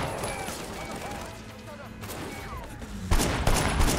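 Gunfire in the Sleeping Dogs video game, a continuous rattle of shots under dense game noise, louder sharp bursts near the end.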